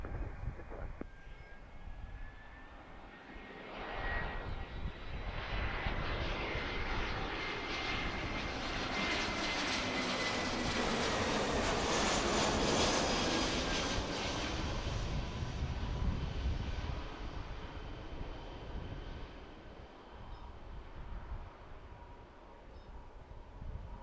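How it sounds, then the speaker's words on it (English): An Airbus A319 airliner descends to land at Philadelphia, its jet engines a broad, steady roar that swells toward the middle and slowly fades, heard from a distance outdoors. "Alright, American 2720 is coming in from St. Louis and Airbus A319."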